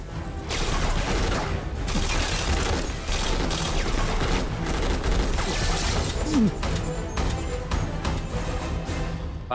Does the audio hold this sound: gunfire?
yes